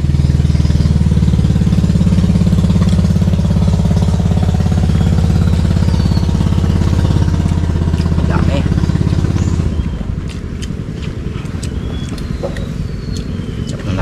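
A motorcycle engine drones loudly close by along a riverside, holding steady then dropping away as it passes, with talk over it.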